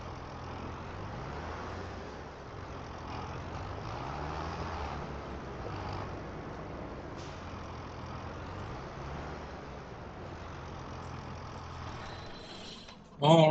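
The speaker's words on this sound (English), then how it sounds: "and then get this tractor parked over here." A tractor engine in Farming Simulator 25 rumbles steadily and fairly loud as the vehicle drives, with a brief louder bump at the very end.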